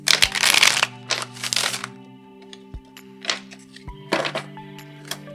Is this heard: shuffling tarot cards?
yes